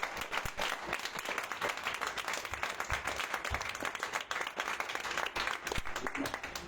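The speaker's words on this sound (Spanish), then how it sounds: "Dale un aplauso a los demás." A church congregation at a Spanish-language Bible study on Matthew 4 claps together, a moderate, fairly distant burst of applause mixed with crowd murmur and some voices, holding steady throughout.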